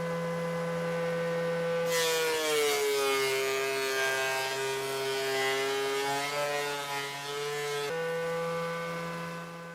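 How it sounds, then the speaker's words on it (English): Planer smoothing curly-grained wood blanks for an electric guitar body, a loud sustained mechanical whine with a steady hum underneath, the cut roaring in about two seconds in and running for six seconds before easing back to the idle drone. "we're going to take these to the planer, get them smooth and flat and equivalent in thickness."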